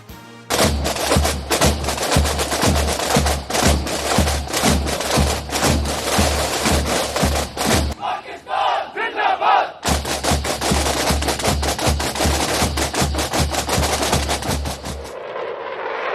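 Fireworks at an Independence Day celebration in Pakistan, a dense rapid crackle of bursts like sustained gunfire with crowd noise behind, loud and continuous in two long runs separated by a short break.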